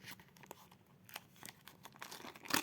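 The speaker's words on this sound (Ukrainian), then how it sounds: "давайте відкривати наш пакет. Ось такий рожевий з мережою" Pink paper surprise package being torn open by hand, with short crisp rips and crinkling paper, close and quiet, ending in a louder final tear.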